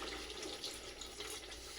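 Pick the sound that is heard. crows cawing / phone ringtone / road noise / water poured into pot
water poured into pot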